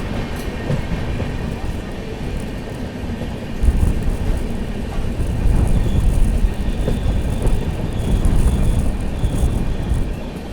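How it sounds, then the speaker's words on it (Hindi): Karnataka Sampark Kranti Express (12650) rolling slowly along a single-track line, a steady low rumble of wheels and carriage noise that swells slightly partway through, continuous and close from inside the train. "ट्रेन अभी तो खैर वही धीमी धीमी रफ्तार में चले जा रही"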